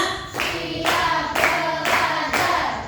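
A class of children claps together in a counted rhythm, five loud, evenly spaced group claps with short pauses between them, close and clear.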